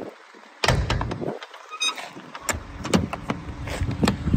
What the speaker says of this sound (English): Very easy to open and close these doors.